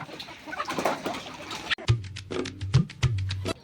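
Chickens cluck in short bursts amid a busy farmyard, first muffled and jumbled, then clearer, closer calls repeating after an abrupt cut.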